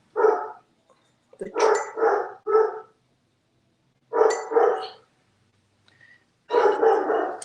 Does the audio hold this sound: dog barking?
yes